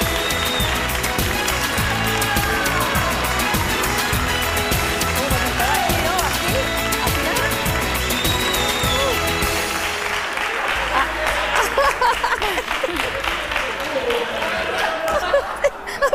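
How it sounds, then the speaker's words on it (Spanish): Broad applause from a television studio audience swells for a contestant named María on a Spanish talk show, mixed with music and voices, then thins into scattered claps while people keep talking. "Un aplauso para María."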